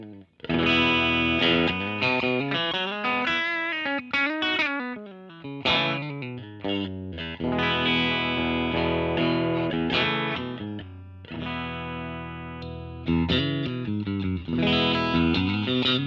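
An electric guitar played through a pedal board into a Victor V40 amp, distorted chords and riffs with effects, loud and continuous with short gaps between phrases, no talking.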